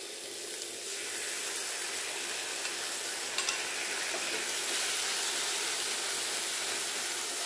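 Banana blossom stir-frying in a pan, a loud continuous hiss and sizzle close by with faint scrapes of stirring, steady throughout and free of any voices.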